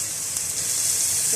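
Ginger and garlic paste sizzles steadily in hot oil in a pan, a close, continuous bright hiss that stays even throughout.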